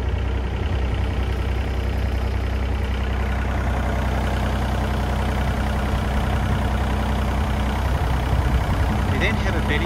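Hako Citymaster 600 street sweeper engine running steadily at idle close by, a continuous low rumble with a faint speaking voice over it.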